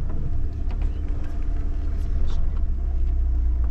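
Car grinding slowly over rocky ground, a loud, continuous low rumble and engine drone with scraping texture throughout, while a person talks over it.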